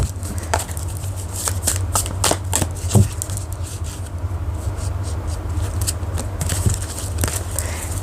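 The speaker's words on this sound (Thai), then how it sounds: "เดี๋ยวปันขอสับไพ่ให้ดีๆก่อน" A deck of tarot cards being shuffled by hand, giving repeated crisp riffling bursts and flicks at an uneven rhythm, close and clear over a low steady hum.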